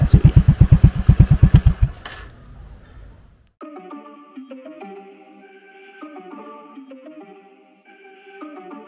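An AT110LT motorcycle engine revs at low to mid RPM in loud rhythmic pulses for about two seconds, then fades out, followed by a melodic tone pattern playing on its own.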